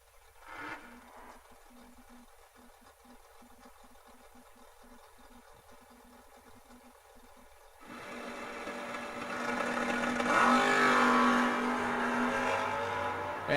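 First-gen Camaro and a Monza at a drag race, engines droning low and muffled at a distance, then swelling into a louder, sustained roar as the cars launch and run down the strip.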